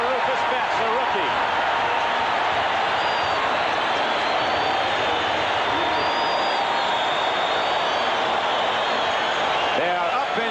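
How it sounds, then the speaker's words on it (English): A stadium crowd roars and cheers at an Oakland Raiders football game against the Cleveland Browns, a dense, steady wall of noise throughout with a broadcast announcer talking over it. "They are up and cheering here in Oakland as the Raiders have stopped the Cleveland Browns on 3 straight downs"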